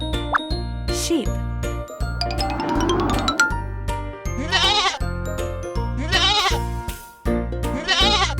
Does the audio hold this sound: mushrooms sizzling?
no